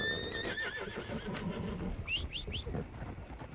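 Horses in a Red Dead Redemption game whinny and neigh in high wavering calls, with a sharp burst of repeated neighs midway over a low murmur of background noise.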